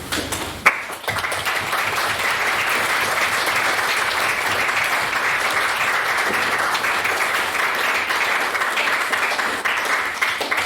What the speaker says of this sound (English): I'd like to thank Ms. Munro for her speech and ask for another round of applause